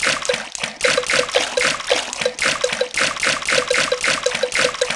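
Cartoon characters swimming in a Peppa Pig mobile game race, rapid rhythmic splashing and trickling water sounds repeating steadily and close, with light game tones mixed in.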